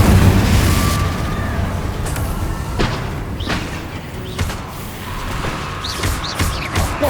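Fiery magical blast of the Confringo spell in Hogwarts Legacy, a loud broadband burst that opens the clip and decays into rumbling debris, with further crackling impacts and effects following in a busy game battle.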